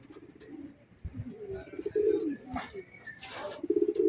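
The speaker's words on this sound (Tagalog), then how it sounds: "Aga ng kalapate." Pigeons coo close by in short, repeated throaty phrases, with a few brief chirps from other birds mixed in.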